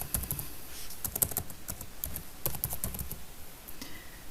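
Rapid keystrokes on a computer keyboard come in quick irregular bursts with short pauses, close and clear against a quiet room with no talking.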